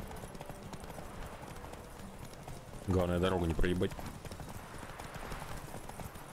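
A horse gallops in The Witcher 3 with a continuous patter of hooves under background game sound, while someone speaks over it and a horse's whinny rises briefly in the middle.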